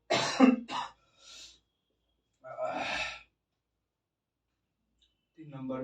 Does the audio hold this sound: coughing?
yes